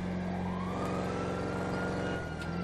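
An emergency vehicle siren in the video game GTA 5 wails steadily and fairly loud throughout, its rising and falling tone continuous with no talking.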